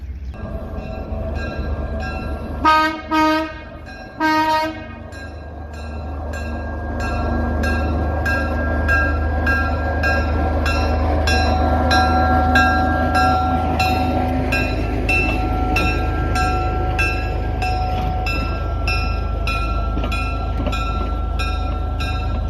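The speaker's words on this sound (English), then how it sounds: "There's a train right there" A historic train ride at Allaire State Park rumbles and clanks along the track, with a couple of bright bell-like rings early on, then a steady rolling drone and rhythmic clatter for the rest.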